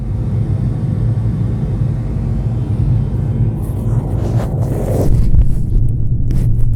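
Aircraft cabin engine noise plays as a steady, loud, low droning hum, with a few brief rustling sounds on top near the end.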